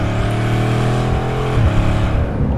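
A Bugatti Chiron Super Sport on boost at full throttle, a loud, close engine roar with tones climbing through the rev range and a brief dip, like a gearshift, partway through.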